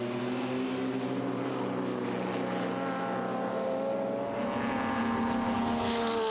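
A 3.1-litre BMW E30 323i race car in an open-class event at Taupo roars at high revs, a loud sustained engine drone that dips briefly and then climbs again as it passes close by.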